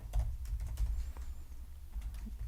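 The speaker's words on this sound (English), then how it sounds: "So I'll just type in the name of my app" Quick bursts of keystrokes on a computer keyboard as an app name is entered, light, close and steady clicking with short pauses, no speech.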